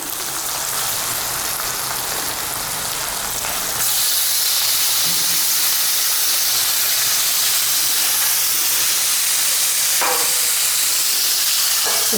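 Raw chicken hitting a hot pan of onions and ginger-garlic paste for a spicy chicken curry, a loud, sudden burst of bright sizzling that swells and holds steady with a faint clink, no voices.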